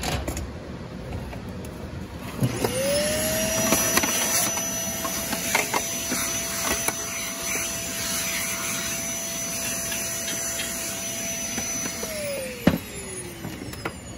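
An old Sharp Twin Energy vacuum cleaner motor spins up to a steady high whine, runs evenly for several seconds with faint clicks, then winds down as it shuts off.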